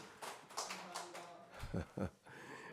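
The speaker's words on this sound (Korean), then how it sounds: "3일 동안 우리 박수로 한번 격려하십시다" A church congregation at a dawn worship service claps in encouragement. The clapping is faint and scattered, and a voice briefly rises over it toward the end.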